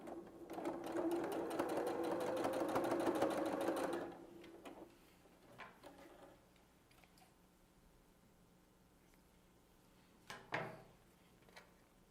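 A sewing machine stitches a handbag seam in one continuous close run of about four seconds, then quiet handling noises follow with a couple of brief knocks near the end.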